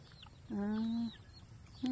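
Chickens on a backyard farm give a short clucking call, a harmonic squawk lasting about half a second, followed by a second brief call near the end, over quiet outdoor background.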